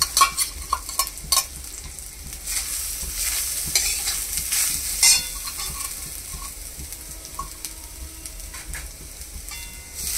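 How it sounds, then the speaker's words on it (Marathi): Grated coconut roasts in a little hot ghee for modak filling, with a soft sizzle under repeated scraping and stirring strokes of a spoon against the pan, close and fairly loud. "तूप थोडंसं गरम झालं की त्याच्यामध्ये आपण जो हा किसलेला नारळ आहे तो टाकायचा आहे"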